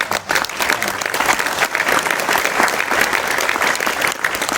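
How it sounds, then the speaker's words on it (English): A crowd at a community event in Little Saigon gives a big, loud round of applause, dense and steady clapping sustained throughout without talking. "So a big round of applause to Paul"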